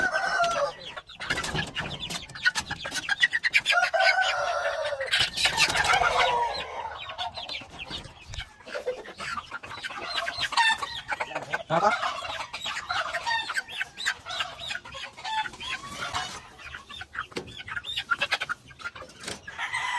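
Chickens in a backyard growing pen, including free-range birds of three months and older, cluck and call busily, with occasional louder squawks and crowing-like cries over a constant flock chatter.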